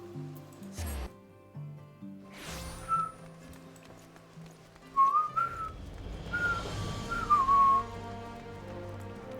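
A person whistles a short wavering tune in a few bursts during a Final Fantasy XIV: Heavensward scene, heard close over soft game music and ambient sound.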